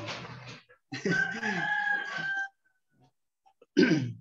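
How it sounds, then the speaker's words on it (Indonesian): Chickens outside an office, with a rooster giving a long drawn-out crow in the middle and shorter squawking bursts before and after, fairly loud and close-sounding. "suara ayam bawah masuk"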